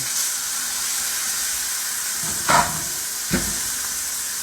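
Ribeye steak searing in a hot pan gives a steady, close hiss and sizzle, with two brief louder bursts as the pan is shaken.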